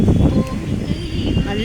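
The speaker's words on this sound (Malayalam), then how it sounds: "നല്ല കാറ്റ് കേട്ടോ ഇവിടെ," Strong wind gusts outdoors among flowering plants, a steady low buffeting roar close to the microphone throughout.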